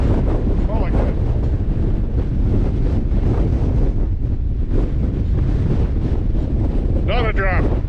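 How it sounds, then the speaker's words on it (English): Gusts of strong wind buffet the microphone in an open field, a loud, constant rumbling roar that carries on throughout with brief voices underneath. "It is at least 80k winds out here today, so pretty windy."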